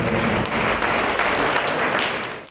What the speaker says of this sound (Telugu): చప్పట్లు కొట్టి మన ఆనందాన్ని తెలియ.